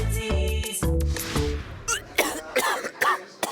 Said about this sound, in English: cover that cough